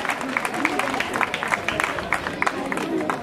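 Steady applause from an audience, a dense patter of many hands clapping at once, sustained throughout without pause.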